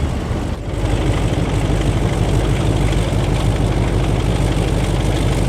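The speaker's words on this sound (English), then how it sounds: "Hear that diesel engine" Train diesel engine working hard under full power in Train Sim World 3 on Southeastern High Speed, a loud, steady low rumbling drone that holds for several seconds with no talk.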